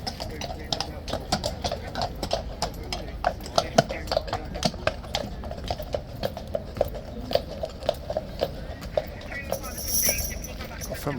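King's Guard horses clip-clopping at Horse Guards in London, a steady run of hoof strikes on pavement that stays close and clear throughout, with people talking over the hoofbeats.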